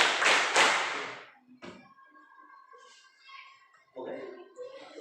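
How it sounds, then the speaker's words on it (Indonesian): A group of children in a classroom clap a few times together, sharp slaps close by and fairly loud, followed by quieter murmuring and voices. "3 tepuk"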